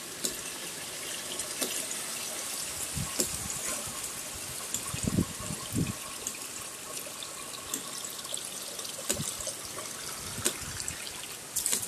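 Water from a ram pump pours steadily into a bucket, a continuous splashing trickle up close with a few louder gurgles and sloshes along the way.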